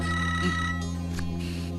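A telephone rings with a steady electronic tone, moderately close, and no one speaks over it.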